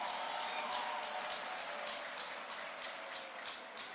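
A church congregation applauds, a steady patter of many hands clapping at moderate distance that continues evenly and fades slightly toward the end.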